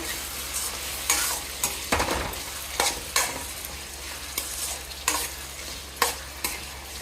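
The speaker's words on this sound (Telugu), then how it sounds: "ఇప్పుడు దీన్ని కలుపుకుందాం మంచిగా" Tomato curry stirred in a pan over high flame, a low sizzle running underneath while a spoon scrapes and clacks against the pan in a series of distinct strokes, close up with no talk.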